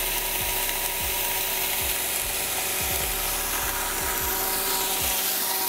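An Evotools 647123 electric grain mill, 1100 W, grinds grain at close range as a steady loud roar with a dense, repetitive mechanical rattle running throughout, alone with no talking.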